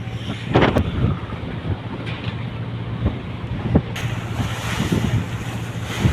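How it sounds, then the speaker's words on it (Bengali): A river launch pushes against the current, with gusting wind buffeting the microphone over the rushing wash of water and waves. The noise is loud and continuous, with repeated surges and slaps of water. "স্রোতের সাথে লঞ্চের যে ধাক্কাটা এই শব্দটা আসলে খুব ভালো লাগে"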